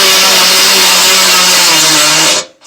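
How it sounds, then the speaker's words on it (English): A power drill bores into a stone for jewelry making, a loud steady whining grind that holds for over two seconds before cutting off abruptly. "Just gather the drill and the stone, and don't do it straight"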